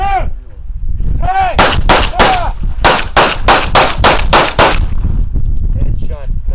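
Rapid string of about ten loud, close pistol shots fired at a target during a pistol training class, cracking in quick succession, with a voice briefly heard at the start.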